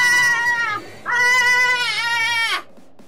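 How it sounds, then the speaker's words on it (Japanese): A just-woken cat lets out two long, loud meows close up, the second stretched and wavering, with a short pause between them. "うるさすぎて猫起きた。"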